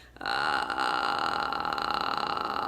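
A continuous low creaky, rattling voiced tone held steady for a couple of seconds, close and fairly loud with no words.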